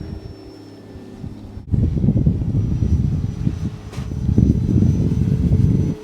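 A Tower Hobbies Hellcat RC model warbird flies in gusty wind, its motor droning as a loud, rough roar that swells after a sudden jump in level, mixed with heavy wind buffeting on the microphone.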